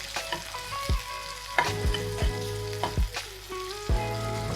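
Chopped onion sizzles as it sautés in a pan for a rock fish puttu, a steady frying hiss broken by several sharp scraping stirs and tapping knocks, with no one speaking.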